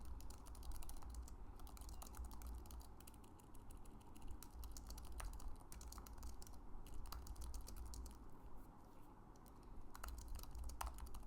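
Quiet typing on a computer keyboard while building a form in Microsoft Word, a soft continuous run of clicks with a few louder taps, faint and close, with no talk.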